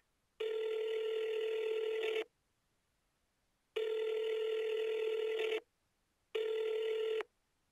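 Three long bursts of telephone ringing on another line, each about two seconds, separated by silent gaps, steady and fairly loud with no voices.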